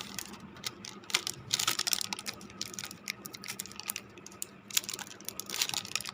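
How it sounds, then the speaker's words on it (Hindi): Tape wrapped around a ferrite core transformer for an inverter produces soft, irregular crinkling and sticky peeling crackles in quiet, close bursts with no talking. "अब फाइनल जो है ये वाली हम टेप कर देंगे।"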